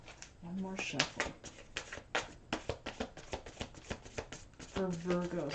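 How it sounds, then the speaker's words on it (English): A deck of angel cards is shuffled by hand in a run of quick, crisp riffling flutters and taps close to the microphone, with a few vocal murmurs mixed in. "One more shuffle."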